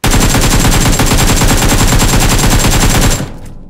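Rapid automatic gunfire from the PUBG Mobile video game, fired with an AKM, rattles in one loud, steady, close burst of evenly spaced shots for about three seconds before cutting off into a fading tail.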